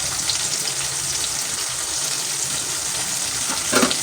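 Tomato curry sizzles in a pan with curry leaves and turmeric, a steady close hiss of frying oil throughout, with a brief louder crackle near the end and no talk.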